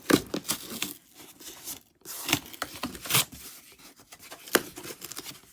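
An Adidas Yeezy Boost 350 shoe box, untaped, is opened by hand, giving close, irregular bursts of tearing and crinkling cardboard and paper with short pauses between them.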